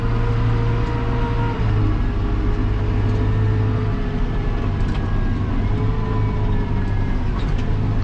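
A CLAAS Arion 520 tractor drives along a road with a loud, steady engine drone and rumbling tyres, continuous and close, with no talking.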